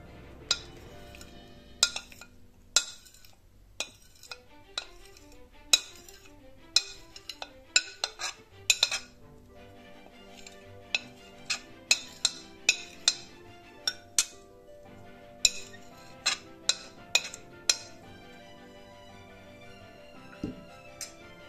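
Rice cream being stirred into a walnut filling mixture in a bowl: sparse, clear metallic clinks of a spoon against the bowl at irregular intervals, close and quiet, with no talking.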